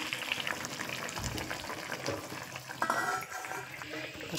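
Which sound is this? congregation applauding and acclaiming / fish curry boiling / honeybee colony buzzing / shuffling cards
fish curry boiling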